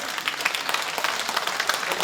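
An audience at a talk concert celebrating the Andong mayor's second anniversary in office applauds, a steady wash of many hands clapping throughout, moderately loud and with no voices over it.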